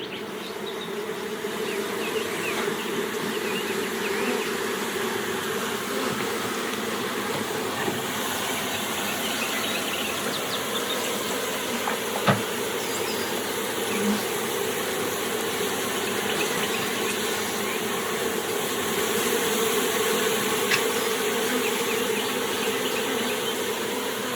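A dense, continuous hum of many honey bees buzzing all around, close and steady throughout, with occasional individual insects passing nearer.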